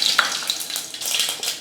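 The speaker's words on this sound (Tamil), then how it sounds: "வரமிளகாலாம் நல்லா பொரிஞ்சிருச்சு." Mustard seeds and dried red chillies fry in a small amount of oil in a pot for tempering rasam. The sizzling is close and crackly, with scattered sharp pops.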